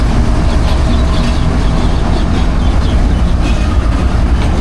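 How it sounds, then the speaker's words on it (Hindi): Locomotive running on railway tracks in an Indian rail yard, a loud continuous rumble with faint rhythmic clatter of wheels, close and steady throughout. "इस लोकोमोटिव ने लीड करना है और ये RG20 इसको लेके जा रहा है वॉशिंग लाइन।"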